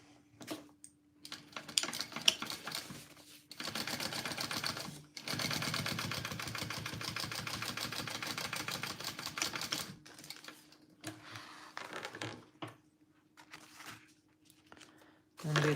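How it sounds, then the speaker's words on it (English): A sewing machine top stitching through the lining of a fabric clutch, running in a steady mechanical burst of fast repetitive stitching for several seconds, with softer handling noises before and after and a speaking voice nearby. "I'm going to top stitch along that"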